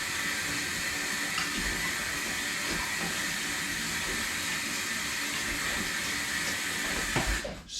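Fresh water pours steadily into a pot of pumpkin wine, a continuous rushing splash lasting several seconds, loud and close, ending with a brief clunk.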